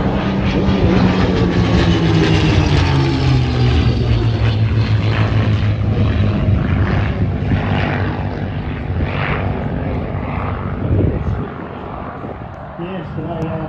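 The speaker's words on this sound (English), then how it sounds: "with those Rolls-Royce Merlin engines, not one but two, with both the Mustang and the Supermarine Spitfire" Deep droning piston-engine roar of Mustang and Supermarine Spitfire aircraft powered by Rolls-Royce Merlin engines at the Avalon Airshow, loud and continuous throughout, swelling and fading slightly as they pass, with a voice talking over it.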